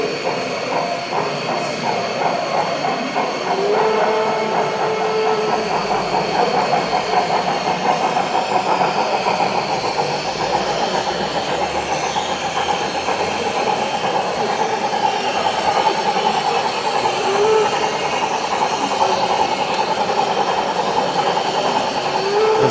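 A KM1 class 50 steam locomotive model in gauge 1 (1:32 scale), Epoch IV version, runs past pulling 17 weathered, loaded wagons, giving a steady rolling rumble with rhythmic clickety-clack and a faint hiss.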